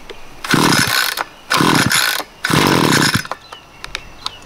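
A Wild Badger Power budget weed eater's small engine is pull-started with three rough, whirring recoil pulls, each under a second long and close by. Short pauses separate the pulls, and a few light clicks follow.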